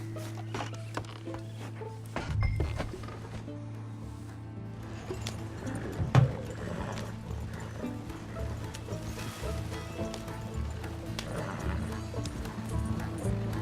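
Horse hooves in Red Dead Redemption II thud and clop at a steady gait against a constant low game-world hum, with a couple of heavier knocks and no talking.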